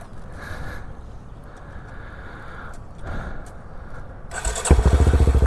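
Motorcycle ridden slowly with the clutch in the friction zone, a low engine idle through most of the clip that rises into a loud, rhythmic chugging near the end as it pulls away close by.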